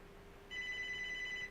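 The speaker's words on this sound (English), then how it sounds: "Of course, the phone has to ring now of all times." A phone in the video game Crisis Core Reunion starts ringing halfway through, a steady electronic trilling tone over a faint background hum, with no talk.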